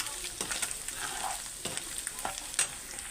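An egg frying in a pan with spicy masala for Sunfeast Yippee noodles gives a continuous close sizzle, broken by repeated scraping stirs of a spatula.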